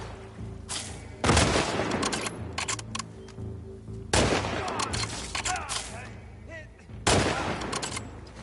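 Gunfire in The Last of Us Part II comes in three loud, dense bursts of rapid shots, spaced a few seconds apart, over a steady game soundtrack.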